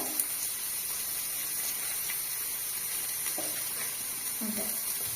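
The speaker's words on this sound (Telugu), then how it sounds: "ఆయిల్ వేడెక్కిపోయింది. ఆనియన్స్ పచ్చిమిర్చి, కొంచెం లైట్ గా పసుపు" Onions, green chilies and a little turmeric sizzle in hot oil, a steady close hiss of frying with faint stirring clicks throughout.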